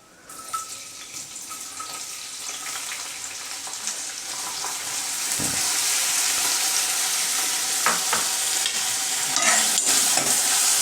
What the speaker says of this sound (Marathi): तेल चांगलं गरम झालेलं आहे जे आहे ह्याच्यामध्ये सर्वप्रथम मी कांदा टाकणार आहे